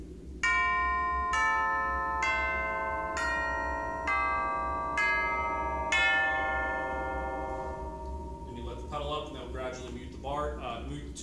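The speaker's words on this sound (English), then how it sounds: "you'll put the pedal down, and then, again, you'll hit strike on the cap," Tubular chimes struck on the cap of the tube, seven clear metallic strikes in a steady descending series, each ringing on and overlapping into a long fading resonance, then a voice speaks over the dying tone.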